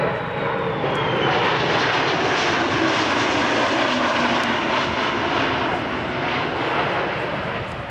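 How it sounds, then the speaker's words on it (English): A USAF C-17 Globemaster III transport jet makes a high-speed pass at an airshow, heard as a loud, sustained broadband jet roar that holds steady for the whole stretch without any talk over it. "we're ready for the high-speed pass of the C-17"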